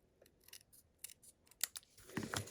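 Scissors snip through iridescent glittered paper in a series of quick, close, crisp cuts, quiet and irregular, ending in a slightly fuller final snip, with no voices.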